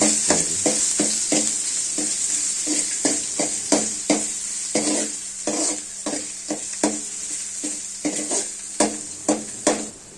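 Garlic fries in a pan for tomato pepper rasam, with a steady sizzle and repeated sharp scrapes and clacks of a spoon stirring against the pan. The stirring speeds up toward the end, and no one speaks.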